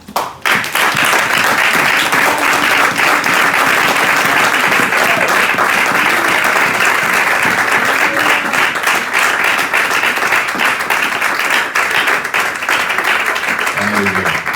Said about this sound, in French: Est-ce qu'on peut se lever pour acclamer la parole de Dieu?